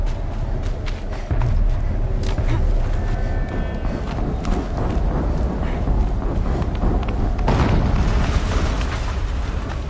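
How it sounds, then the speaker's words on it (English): Explosions in the video game Horizon Zero Dawn, a loud blast near the start followed by sustained rumbling, debris and further bursts through a busy game soundscape. "An explosion."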